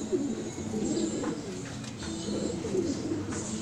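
An injured pigeon gives soft, repeated low coos at close range over faint background noise.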